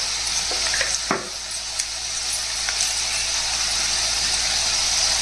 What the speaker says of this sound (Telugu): ఇవన్నీ చక్కగా దోరగా వేయించాలండి